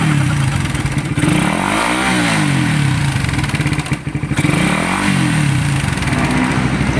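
A noisy motorcycle engine clatters up close, revving up twice in smooth swells over a rough, constant idle.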